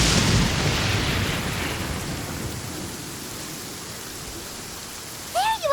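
Steady rain pours in the Genshin Impact game, a dense even hiss from start to finish with a brief chirping sound near the end.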